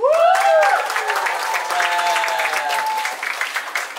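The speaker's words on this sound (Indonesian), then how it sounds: "Tepuk tangan buat Pak Puji." Loud, sustained applause from a crowd at an English and character camp in Depok, dense clapping with music tones ringing at the start before settling into even applause.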